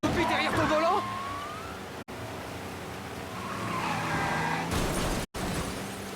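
A car in Mafia Definitive Edition skidding off the road, with tires squealing and an engine roaring loudly alongside a police siren, followed by a sustained rumble broken by two abrupt dropouts.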